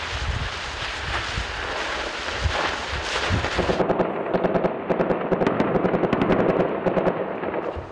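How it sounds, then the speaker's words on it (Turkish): Gunfire in the streets of Kobani during fighting, heard as dense bursts of cracking shots; a rough, loud mix gives way after a few seconds to rapid repeated reports, with no talk. "Kobani'de silahlar susmadı."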